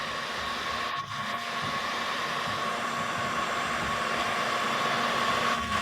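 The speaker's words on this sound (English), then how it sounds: "It is just the heat gun going to heat up the surface that has the protection," A heat gun blows steadily as it softens and strips the protective finish from a basement cabinet's molding: a constant, close, even whooshing hum with no speech.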